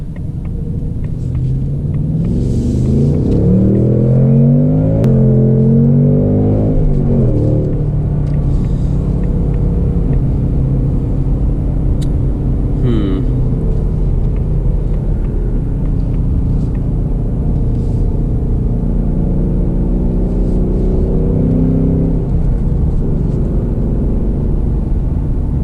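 A 2024 Ford Mustang GT with a six-speed manual rumbles loudly and continuously from inside the car, its engine rising and falling in pitch through a couple of revs as shifts are rev matched.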